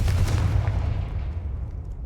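A Confringo fire spell explodes in the video game Hogwarts Legacy, giving a loud, deep boom with a rumbling low-end tail that slowly fades over about two seconds, with no voices.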